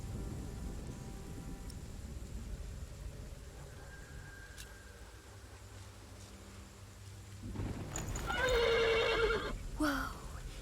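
A loud, shrill horse whinny in the game Pillars of the Earth bursts out near the end, closer and louder than the quiet, rumbling ambient background before it.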